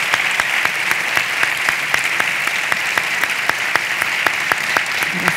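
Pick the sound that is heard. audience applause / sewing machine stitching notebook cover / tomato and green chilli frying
audience applause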